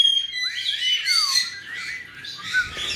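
Several pet birds squawk and chirp indoors, loud and close, with sharp rising calls overlapping in bursts and no talk.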